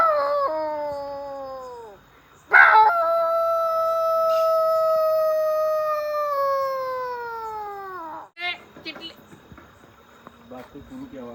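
A person's voice imitates a fierce dog howling: two long, wavering, pitch-sliding howls, the second sustained for several seconds before dropping off, followed by brief rough vocal noises.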